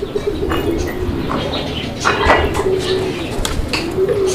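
Low, rolling coos of caged pigeons repeat through the clip amid some wing flutters and faint chirps, close by.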